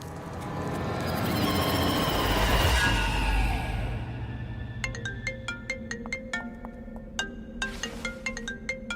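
A repeating electronic ringtone chimes in a steady pattern after a loud rushing whoosh fades out.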